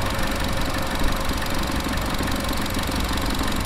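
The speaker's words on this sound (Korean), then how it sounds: "에코텍 엔진이라 그래서 그런지 굉장히 조용하고요" A Chevrolet Aveo hatchback Turbo RS with an Ecotec engine idles quietly and steadily, a smooth low hum with faint mechanical ticking and no other sounds.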